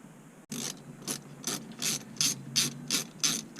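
A hand ratchet clicks in quick, rhythmic bursts, close and clear, while loosening small bolts on the shifter console cover of a 1993 Mustang Cobra.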